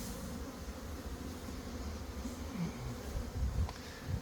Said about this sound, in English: these bees are flying